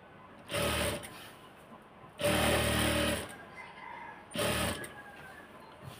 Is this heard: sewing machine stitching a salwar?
yes